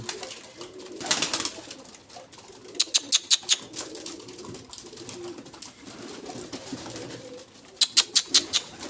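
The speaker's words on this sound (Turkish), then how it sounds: "Taklacı de kanalına açık şu anda. Hatta uçurdum bile onu." Tumbler pigeons flying outdoors give bursts of sharp wing claps and flapping, some close and loud, with soft cooing and other birds in the background, without talking.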